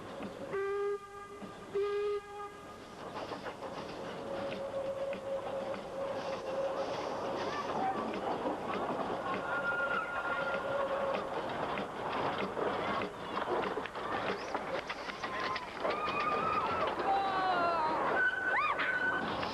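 A steam locomotive whistle sounds twice, then the train rumbles and chugs along the rails through countryside at Alexandra with clanking wagons, more whistle toots rising near the end.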